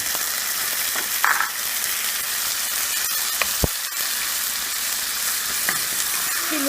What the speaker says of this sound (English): Next, I am going to add this tomato.